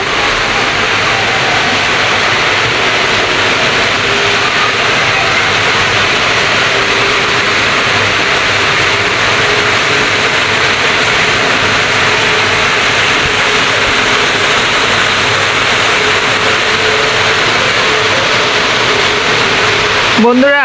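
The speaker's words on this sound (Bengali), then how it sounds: "মিরপুরে আজকে অনেক বৃষ্টি হচ্ছে" Heavy rain falling on a balcony in Mirpur, Dhaka: a loud, dense and continuous roar of downpour that fills the whole scene evenly from start to end, with no clear gaps or separate sounds.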